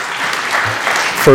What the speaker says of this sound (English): we also ask that we please refrain from applause